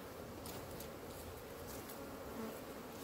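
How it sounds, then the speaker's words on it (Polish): Bees work at a hive as a colony readies for winter, a soft, steady buzzing hum with occasional louder passes of single insects, faint and continuous. "Pszczoły sobie gospodarują,"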